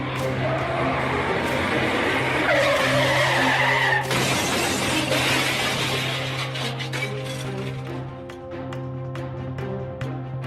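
Car tires skid and screech loudly in the Sakura School Simulator video game, a sustained squeal over engine hum and traffic noise that fades after several seconds into scattered clicks.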